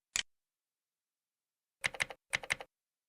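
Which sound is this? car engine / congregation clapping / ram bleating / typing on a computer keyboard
typing on a computer keyboard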